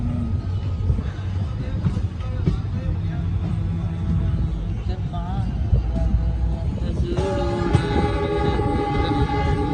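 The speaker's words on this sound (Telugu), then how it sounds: "ఇప్పుడే స్టార్ట్ అయింది ట్రైన్ బార్మేర్ రైల్వే స్టేషన్ నుంచి. హారన్ కూడా వినపడుతుంది" A train pulls out of Barmer railway station in Rajasthan, its horn sounding loudly over the rumble and clatter of moving wagons, with a person talking nearby throughout.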